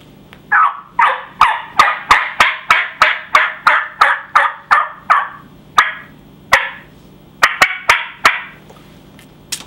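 A hunter's mouth call with a reed mimics a wild turkey yelp in a long, rhythmic run of loud, close, raspy two-tone notes, then a short pause and a second shorter burst, with sharp clicks between.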